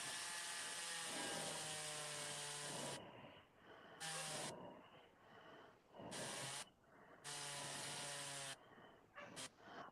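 A Dremel rotary tool running in bursts, a high whining hiss that starts and stops several times with short quiet gaps between runs, heard up close.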